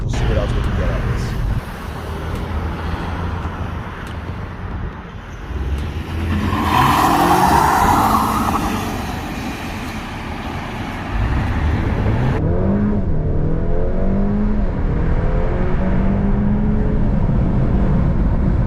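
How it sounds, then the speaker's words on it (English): A tuned Honda Accord 2.0T with a Stage 3 Ktuner tune accelerates outdoors, its engine rising in pitch through the gears with a broad roaring rush, while a voice talks over parts of the run. "show you how the car accelerates, how it looks"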